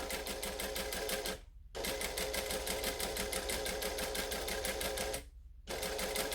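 A sewing machine stitches fabric in fast rhythmic runs, heard close and steady, with two brief pauses where the needle stops and then starts again, and no voices.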